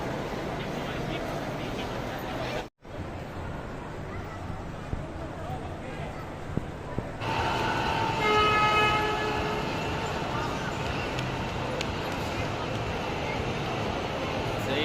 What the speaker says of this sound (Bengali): সেই ট্রেন চলছে।